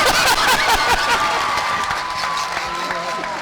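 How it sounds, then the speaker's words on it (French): Audience clapping and cheering at the closing of a scientific AIDS conference in Senegal, loud and lively at first and then easing, with voices mixed in. "Applaudissez à Thierno"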